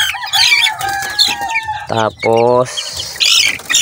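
Young broodcock roosters of a Bruce Barnett line, with black-breasted males, crow and squawk close by in loud harmonic bursts, overlapping clucks and chirps, with brief talk over them.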